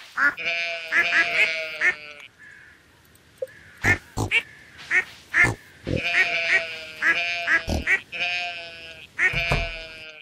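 Farm ducks in the Stardew Valley video game quack over about ten seconds, loud and near, in repeated clusters of nasal calls broken by short pauses and sharp clicks, with no talking.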